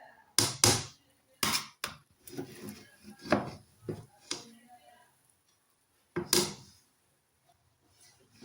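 Cooked biryani rice being mixed in a pot: sharp, close knocks of a spoon against the pot come in irregular clusters, separated by quiet gaps, with soft shuffling between them.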